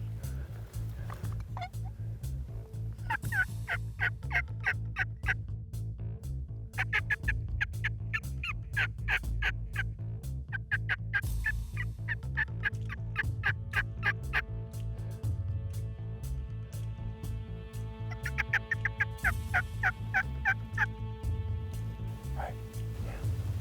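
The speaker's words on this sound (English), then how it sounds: "they're just about to come across their first encounter with some strutting turkeys" Wild turkeys in a hunting setting gobble in repeated rattling bursts, several gobbles spread across the clip, fairly clear over a steady low background hum, with no talk.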